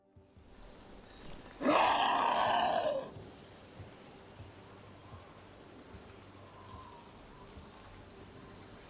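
Steady rain hisses throughout a scene in Dragon Age: The Veilguard, briefly drowned out by a loud, strained burst of sound about two seconds in.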